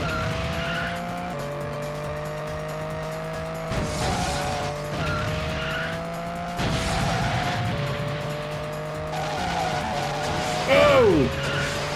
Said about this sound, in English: The engine and the skidding noises just drown it all out.